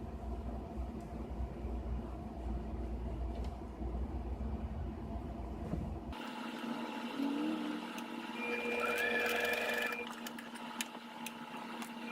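A sewing machine sews a Swiffer pad with a dense, rapid mechanical whir for several seconds, then stops, leaving quieter handling noise and faint clicks.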